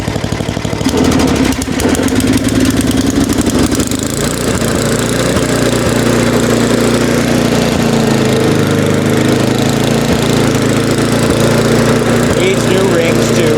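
A warmed-up Tecumseh snowblower engine runs at a steady, loud putter up close, after a brief rougher start. A voice is heard briefly over it.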